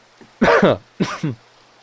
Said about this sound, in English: listening to me cough live